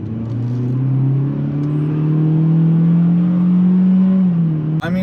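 A 2022 Honda Civic Sport Hatchback accelerates hard, its engine holding a close, steady drone that climbs gradually in pitch for several seconds with no talking.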